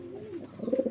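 A Lahori or racer-breed pigeon gives a brief, close coo, a soft rolling throaty call that rises into a louder burst at the end, with nothing else around it.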